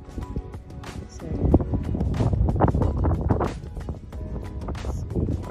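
Breezy outdoor wind on a warm 80-degree day in a meadow, buffeting the microphone in a steady low rumble that swells and eases throughout, with faint thumps underneath.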